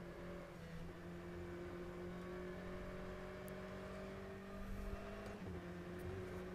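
Aston Martin GTE race car in rFactor 2 on Lester GP, its engine droning steadily at a held pitch with gearbox whine layered over it, staying close and continuous with a slight swell near the end.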